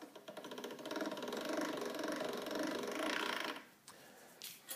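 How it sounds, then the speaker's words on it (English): A pasta machine rolls out a sheet of gluten-free modelling chocolate dusted with maize cornflour. It gives a steady mechanical whirring hum for about three and a half seconds, then stops, leaving a few quiet handling sounds. "I'm just going to pass that through the pasta machine."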